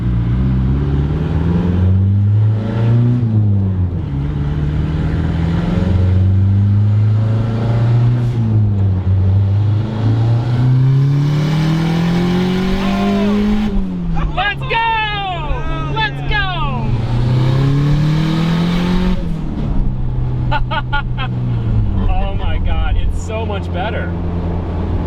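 A turbocharged mid-engine Eclipse car revving hard through a pull, its engine tone climbing and dropping repeatedly with boost held through the rev range, loud and continuous with turbo whistle and chatter rising near the end, and voices mixed in.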